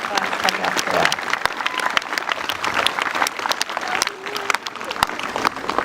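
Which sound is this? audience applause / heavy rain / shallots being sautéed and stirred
audience applause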